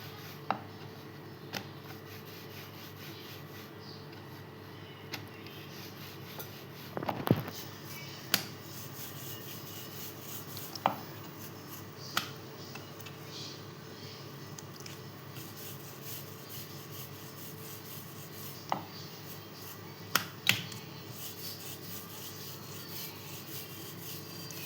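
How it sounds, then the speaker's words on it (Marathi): A rolling pin rolls a ball of semolina and potato dough on a board in soft, repeated rubbing strokes, with occasional light taps and knocks, faint and close. "आता इथे आपण गोळी घेतलेली एक, तिला आता आपण लाटूया."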